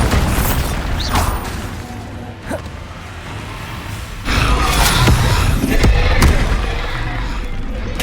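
Bombarda spell explosions in Hogwarts Legacy amid a spell-casting duel, with loud blasts and sharp bursts over a rumbling background and a heavy boom swelling in the second half.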